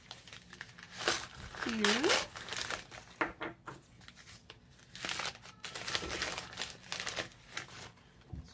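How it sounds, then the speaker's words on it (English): Small ceramic thrift-store pieces being unwrapped, with repeated crinkling and crumpling of wrapping paper in irregular bursts, close by and moderately loud, as a person speaks briefly. "let me unwrap them all"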